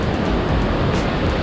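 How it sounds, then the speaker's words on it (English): A massive waterfall, seen from a bouncy rope bridge in eastern Turkey, fills the clip with a loud, unbroken roar of rushing water like dense broadband noise. Wind buffets the microphone, and no one speaks. "there's a massive waterfall there"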